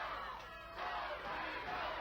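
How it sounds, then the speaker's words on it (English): Wrestling fans cheering for Too Sexy Brian Christopher at a Powerpro Wrestling event, a steady crowd roar with a dip in the middle before swelling back to a sustained, moderately loud wash of voices. "The fans cheering as they get behind Too Sexy Brian Christopher"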